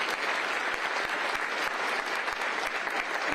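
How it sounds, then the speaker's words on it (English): Enthusiastic applause from a sizable crowd at a State of the County address, dense clapping sustained at an even level throughout. "Give them a round of applause."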